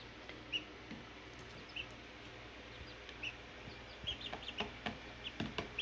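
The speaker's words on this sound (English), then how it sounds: "Chickens are doing great." Soft, scattered clucks and chirps from chickens at a moderate distance, with short irregular calls over a quiet outdoor background.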